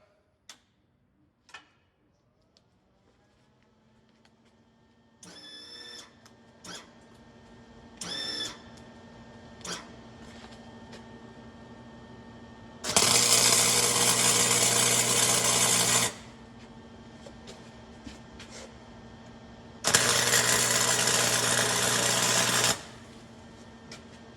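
Tack welding on a Geo Tracker stub shaft: scattered clicks and short buzzy bursts give way to two loud, sustained crackling weld runs of about three seconds each, separated by quiet.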